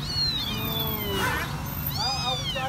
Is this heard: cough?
no